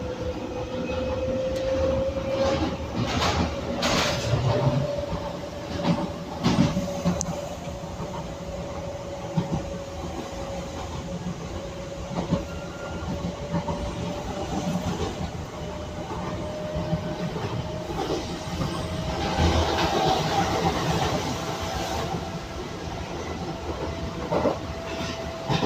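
A Docklands Light Railway train rides out from Canary Wharf toward London City Airport, giving a steady onboard rumble with a sustained motor whine, wheel clatter and occasional squeals, heard with no talk.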